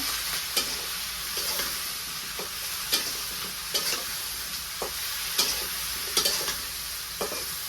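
A curry with onions is stirred in a sizzling pan, a constant frying hiss broken by repeated scraping and knocking strokes of the spoon at irregular intervals, close up and without speech.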